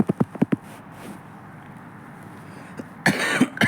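Several quick, sharp coughs in a burst, then a quiet pause before another loud cough cluster near the end.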